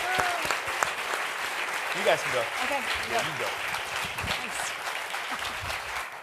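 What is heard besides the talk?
audience applause for panelists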